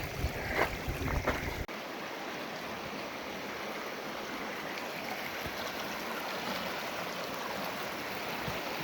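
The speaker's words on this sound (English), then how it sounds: "Tiny little waterfalls everywhere." Sulphur Creek in Capitol Reef with many tiny waterfalls, a steady rushing and splashing of flowing water at moderate distance, continuous and fairly quiet, with a brief louder rustle at the start.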